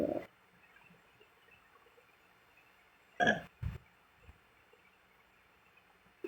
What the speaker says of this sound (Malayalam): ഏമ്പക്കാം